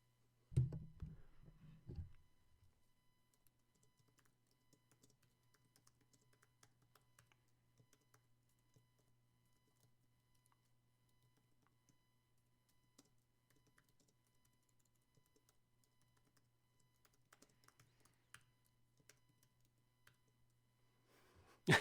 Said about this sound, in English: Prepares keyboard for frantic typing.